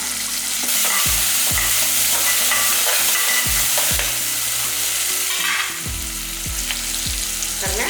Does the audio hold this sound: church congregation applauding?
no